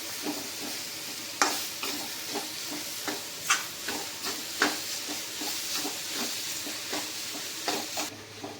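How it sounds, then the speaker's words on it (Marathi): Vegetables stirred with oil and spices in a pan for a Konkani-style dish, with a soft continuous sizzle broken by repeated scraping strokes of a spoon against the pan in an irregular rhythm, close and alone. "सर्वत्र तेल मसाला हा लागला पाहिजे, व्यवस्थित हलवायची आहे."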